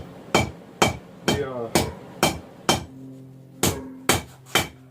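A hammer strikes steel on an anvil while a farrier rasp is drawn out into a knife taper. About ten sharp, ringing blows land in a steady rhythm, close and loud, with brief metallic ring between them.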